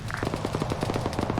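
Rapid automatic gunfire in a military video game rattles off in a quick burst of evenly spaced shots, moderately loud and close, without speech.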